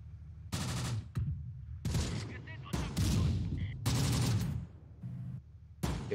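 Bursts of gunfire and machine-gun fire from the World War II tactics game Close Combat: The Bloody First come in separate loud volleys with short gaps between them, and there is no talking.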